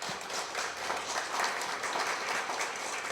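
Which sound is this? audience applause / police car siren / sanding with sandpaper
audience applause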